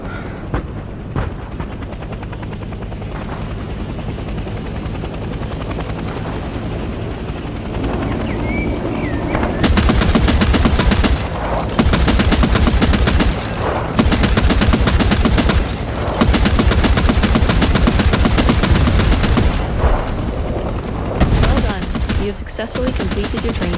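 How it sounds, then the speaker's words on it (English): Anti-aircraft gun in the Vietnam-era shooter Hell Let Loose Vietnam fires loud sustained bursts at an enemy helicopter, its rotor thudding throughout before the heavy gunfire erupts in repeated long volleys. "Now, enter the AA gun and shoot down the enemy chopper."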